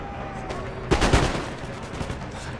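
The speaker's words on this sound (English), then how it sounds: "gets my sepoys open fire onto this militia unit" A ragged burst of musket volley fire from sepoy infantry in the Empire Total War battle game, several overlapping shots cracking together around one second, then scattered fainter pops over battlefield ambience.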